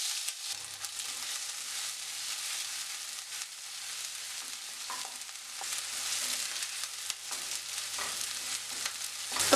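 Crushed ginger and garlic frying in hot oil with fenugreek for a Kerala-style sardine curry, a steady bright sizzle with occasional stirring scrapes and no talking.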